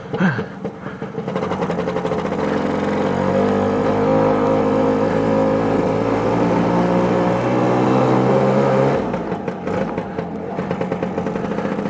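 A Lambretta scooter engine revs hard and accelerates in a loud, sustained two-stroke drone close by, rising in pitch and holding for several seconds before dropping back near the end.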